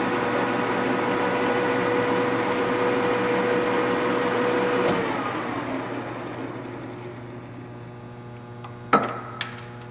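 A Deckel FP2 milling machine spindle runs at 315 RPM with a steady, tonal mechanical hum. The hum winds down and fades about halfway through, and a couple of sharp clunks follow near the end.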